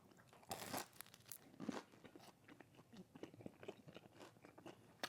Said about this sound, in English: Texturally, you know, you get the crunch, you get the sensation in your ears too of like biting through it.